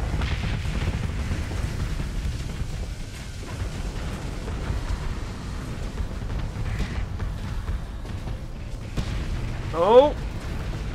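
Starship weapons fire against a battleship in the space combat game Starsector, a dense continuous rumble of booms and bursts, with one louder swelling hit near the end.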